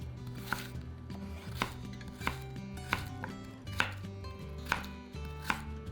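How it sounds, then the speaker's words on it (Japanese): A knife chops peeled yam into thin strips on a cutting board, with about eight sharp, evenly spaced knocks close up and no talk. "皮を剥いたら3分の1は短冊切りにします。"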